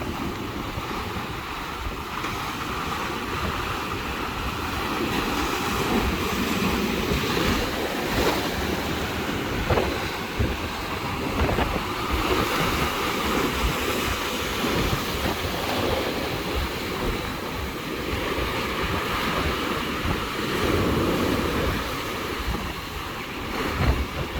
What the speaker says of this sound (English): look at those waves hitting down there